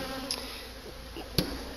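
Honey bees around a strong hive during a midwinter apiary check, a faint continuous buzzing hum with a couple of brief louder passes of individual bees close by.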